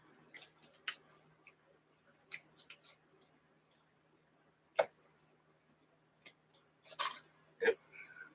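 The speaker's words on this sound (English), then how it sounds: "Do a little quick shuffle here." A quick shuffle of playing cards at a table, soft scattered ticks and brief riffling bursts, quiet and close, with pauses between them.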